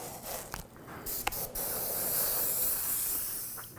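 A spray paint can hisses steadily as Quicksilver paint goes onto a helmet, a long continuous spray with a few brief breaks early on, close and fairly loud with no talking.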